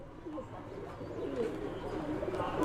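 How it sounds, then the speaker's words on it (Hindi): Punjabi Malwai pigeons coo in a soft, continuous murmur, moderately close and fairly quiet, with a low background hum throughout. "हमारे गुड्डू भैया के जो पंजाबी मलवई कबूतर है"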